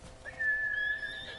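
A horse whinnies in the video game Ghost of Tsushima, a single rising, whistling call held for about a second, moderately loud over a quiet background.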